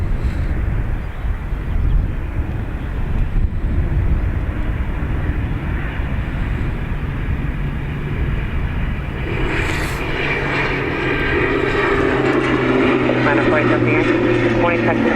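An ATR turboprop airliner at Dublin Airport on runway 28 right hums and drones steadily, with the engine note rising and growing louder partway through, under air traffic radio talk.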